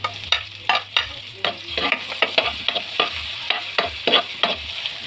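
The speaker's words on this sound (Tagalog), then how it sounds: "Then, igisa na natin yung ating ricados." Onion, garlic and ginger sauté in a hot pan for dinuguan, with repeated stirring scrapes over a steady close sizzle.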